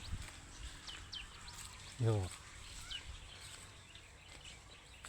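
Thin, distant babbler (lelī bird) song chirps over outdoor background noise, briefly interrupted by a single spoken word from a nearby voice.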